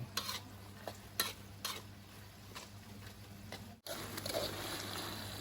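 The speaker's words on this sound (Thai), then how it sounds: "ผัดเครื่องจนหอมดีแล้วเนี่ย" Seasoning ingredients stir-fried with oyster sauce in a pan, with several distinct scraping stirs over a low sizzle, then a brief gap and a louder, denser sizzle as frying resumes up close.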